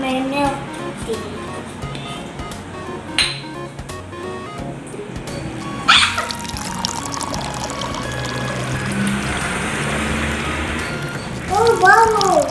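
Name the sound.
pouring milk tea into a cup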